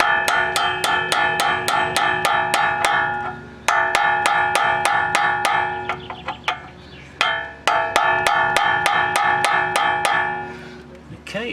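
A hammer strikes a rusted rear suspension bolt on an Alfa Romeo GT, 147 or 156, in quick steady bursts of sharp metallic clangs with short pauses between runs, loud and close.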